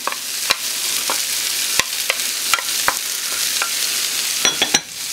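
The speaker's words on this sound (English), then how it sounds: "I like to get a little bit of crust on the potatoes and the onion and celery" Potatoes, onion and celery fry in a pan for knoephla soup, giving a steady close sizzle broken by sharp scraping stirs with the spatula every second or so.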